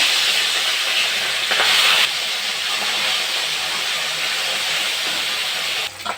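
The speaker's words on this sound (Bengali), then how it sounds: "তেলটা গরম হয়ে গেছে, মাছগুলো ভেজে নেব।" Fish frying in hot mustard oil in a pan gives a loud, steady broadband hiss and sizzle that holds for the whole stretch, with a brief louder surge early on and no talking.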